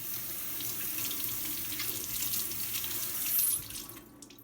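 Peeled onions being rinsed under a running kitchen tap, a steady, close rush of water splashing into the sink that cuts off near the end.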